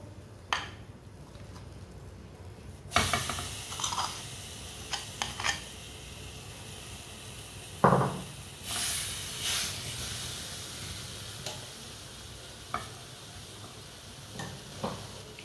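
Ground dates cooking in a pan on a very low flame, a soft hiss and sizzle with intermittent stirring scrapes and clatters close by and no talk.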